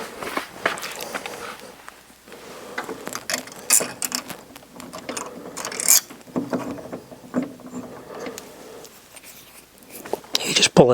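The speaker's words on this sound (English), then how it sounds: "We're going to screw them in." Screws being driven into a door lock while a person talks, with intermittent scraping, ratcheting turns and small metallic clicks close by, coming in short irregular bursts.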